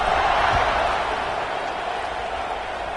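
Stadium crowd at a college football game in College Football 26, Texas versus Tennessee, a steady broad roar of cheering fans holding at one level throughout, loud and continuous with no break.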